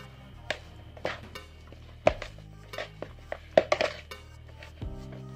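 A spoon stirs mashed tempe with spices in a bowl, making a series of irregular scrapes and sharp clinks against the bowl, close and fairly faint, with no talking.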